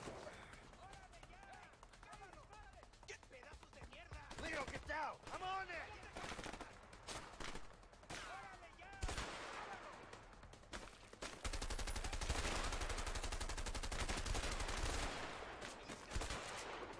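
Rifle shots from an M1 in the jungle assault of the video game A Way Out, sharp cracks scattered among game noise and two players talking, followed by a denser loud stretch of continuous gunfire.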